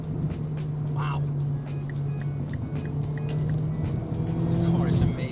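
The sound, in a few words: modified MINI R56 turbo engine accelerating through gears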